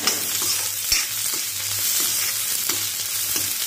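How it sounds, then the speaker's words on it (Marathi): Onion, sweet corn and vegetables sautéing on a low flame for white sauce pasta: a steady gentle sizzle broken by rhythmic spatula stirs and scrapes against the pan, with no speech. "आपल्याला हे सगळं लो फ्लेमवर बारीक गॅसवर शिजून घ्यायचे सगळं"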